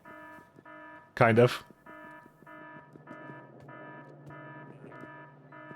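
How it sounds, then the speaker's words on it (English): An in-game alarm in Factorio, modded with Pyanodons, sounds as a repeating electronic beeping pattern in regular pulses, with a short burst of speech over it early on and background music underneath. "it is kind of an important alarm that I don't want to just suppress"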